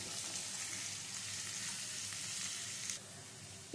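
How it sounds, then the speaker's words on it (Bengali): Onions fry in hot oil while cooking a spicy tangra fish curry, giving a steady, dense sizzle that holds for the whole stretch before dropping slightly near the end, with no voices. "পেঁয়াজটা লাল লাল করে ভাজা হয়ে গেছে"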